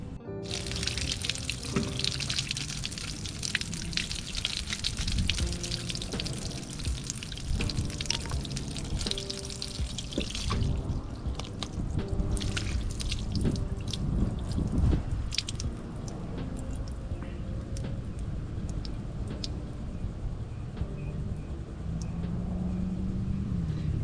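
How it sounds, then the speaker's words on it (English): Fluid draining through the drain plug of a Toyota Cressida tank, a continuous gurgling, splashing pour with wet squelches, steady and close throughout, no voices. "Just gotta pop that drain plug out, and then it'll all come out."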